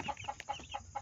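Hen with a brood of chicks clucking, five soft evenly spaced clucks in quick succession, quiet and nearby with no voices.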